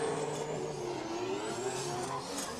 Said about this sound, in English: Because unique sound in this car, the 20B.